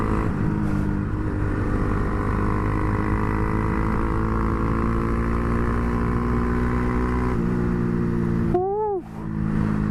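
Honda Grom motorcycle fitted with a 402 Innovations carbon fiber exhaust, a steady loud engine drone held for several seconds, then a brief rev rise and drop near the end with a hint of popping.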